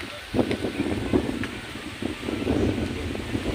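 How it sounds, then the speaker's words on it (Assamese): Strong wind gusting steadily outdoors, a broad continuous rushing with rustling and buffeting against the microphone, steady and fairly loud throughout with no speech. "চাওক কিমান জোৰেৰে বতাহ উঠিছে"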